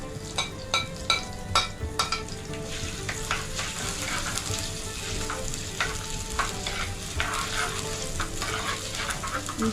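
Ginger dropped into hot coconut oil with popped fenugreek seeds sizzles steadily in a pan, with a run of sharp spoon taps and stirring scrapes early on, then continuous close frying.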